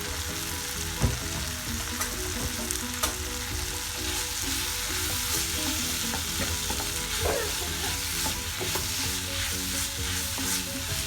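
Pieces of fresh tuna stirred with masala as they fry in a pan, a steady close sizzle with repeated scraping strokes of the spoon throughout, no voices.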